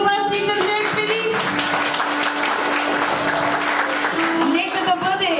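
Wedding guests applaud in a steady crowd clap that runs throughout, with a sustained musical tone and some voices mixed in.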